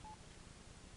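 A single short keypad dialing tone beeps on an Env Touch phone, faint and brief over a steady, quiet background hiss.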